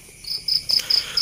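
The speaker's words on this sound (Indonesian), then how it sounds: "diiringi dengan iringan lagu jangkrik krik krik krik ya" Crickets chirp in a steady series of about five short, bright trills at regular intervals, fairly close and clear, with no speech over them.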